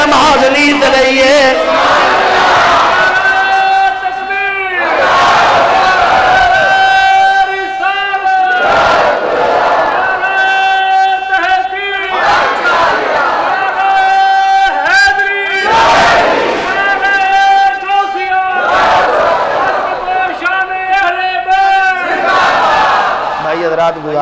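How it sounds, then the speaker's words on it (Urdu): A large crowd at a religious gathering shouts slogans in unison, loud swelling waves of voices rising and falling in repeated bursts with brief gaps between calls. "لایا نعرہ تے تساں دتا نعرے دا جواب"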